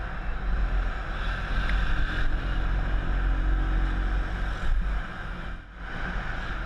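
Scooter riding along a narrow winding road, a loud low engine drone mixed with heavy wind rush buffeting the microphone, steady throughout with a brief dip near the end.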